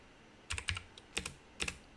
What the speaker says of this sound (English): I keep typing the wrong thing.